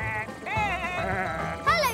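A sheep bleats several times close by, wavering cries in quick succession with a sharper bleat at the end.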